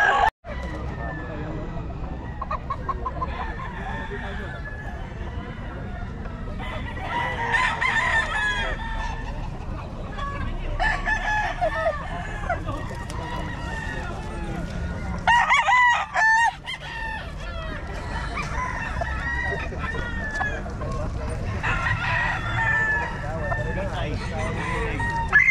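A Gilmore gamefowl rooster crows loudly and nearby, with repeated crows and clucks from other fowl in a busy yard, plus a steady background noise and some voices.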